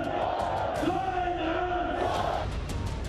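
A large protest crowd at a rally at Minar-e-Pakistan in Lahore, Pakistan, roars continuously and loudly, with drawn-out chanting voices rising above the dense mass of noise.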